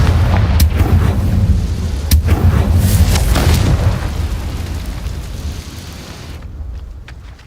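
A Confringo fire spell explodes in Hogwarts Legacy with a loud, deep booming blast, sharp cracks and a long rumbling roar that slowly fades out.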